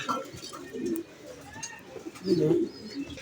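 Racing pigeons arriving at a loft coo softly in short low bursts, with a pause between calls, as someone talks intermittently nearby.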